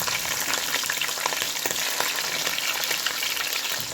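Three chopped green chilies frying in hot oil with garlic for a country rooster chicken curry, a steady dense sizzle running throughout with faint stirring scrapes, close and fairly loud.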